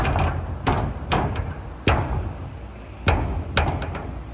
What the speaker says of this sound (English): Let's see how noisy the door is.